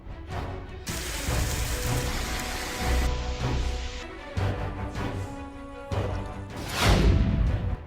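Heavy rain during a monsoon downpour in Nepal pours loudly and steadily, with abrupt shifts in intensity and a few sharp splashing bursts, and no voices are heard.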